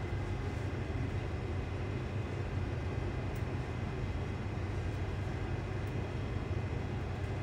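Class 385 electric train traction motor, a steady loud hum and rumble with constant rolling noise throughout, no talk.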